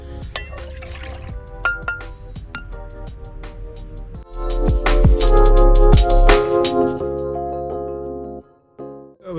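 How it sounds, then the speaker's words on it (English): Coffee poured into a normal mug at a bikepacking camp, starting with scattered drips and small clinks, then a loud steady pour for a couple of seconds that trails off to quiet. "So we got some coffee poured."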